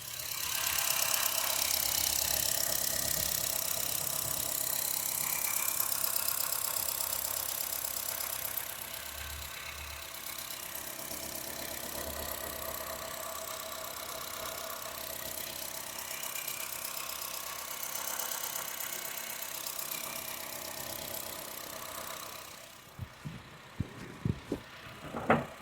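A 2009 Honda City petrol engine idles steadily at close range, a continuous low rumble with no talking, ending in a few sharp clicks and knocks.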